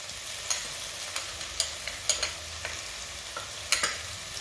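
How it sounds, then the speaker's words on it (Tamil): Raw ground masala of dried chilli, coriander, cumin, pepper and fennel fries in oil for crab gravy, giving a soft, constant sizzle with light stirring scrapes and taps now and then, close up and without talk. "இது வந்து இந்த எண்ணெயில் கொஞ்சம் இப்படி ஃப்ரை ஆகட்டும்"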